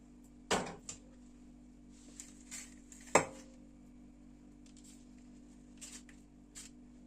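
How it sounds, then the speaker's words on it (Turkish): A metal spoon scrapes and clinks against a tray as plum pulp for fruit leather is spread out. A few sharp taps stand out among soft, quiet scraping in a calm kitchen. "Şöyle kaşığımla yayıyorum."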